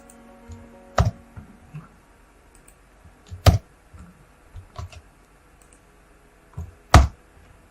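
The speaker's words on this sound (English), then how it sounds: "I'm using Ctrl P on my keyboard to access the curvatures tool quickly." Computer keyboard keys clicking during shortcut use in Moho animation software: a few sharp, well-spaced clicks and taps close by, with faint softer key presses between them in a quiet room.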